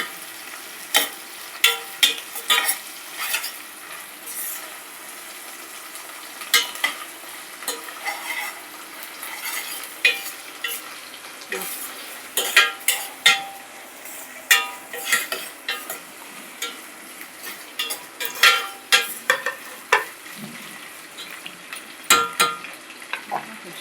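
Dried fish frying with onions in a pan, hissing and sizzling steadily while a spoon scrapes and stirs in irregular bursts of clinks and scrapes throughout.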